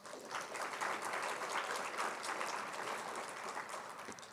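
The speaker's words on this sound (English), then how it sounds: "Please give a round of applause." Audience at a Kente stole graduation ceremony applauding a graduate, a steady dense wash of clapping from a large crowd at moderate distance, with no talking.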